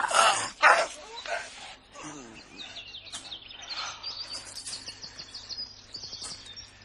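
A dog barks twice, loud and close, during a nighttime French theatre play, followed by chirping birdlike calls and background ambience.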